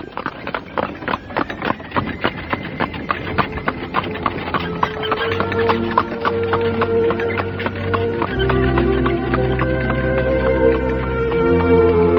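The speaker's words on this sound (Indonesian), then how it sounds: "Kuda meninggalkan desa Pasuruhan" Horse hooves clip-clop in a steady rhythm as a horse leaves the village of Pasuruhan, the beats clear at first, then partly buried under loud swelling music.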